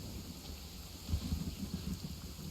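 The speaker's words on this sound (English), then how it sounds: "The rain is so loud." A steady wash of rain hiss in a video game fills the background, joined by faint low rumbles, constant and moderately quiet with no voices.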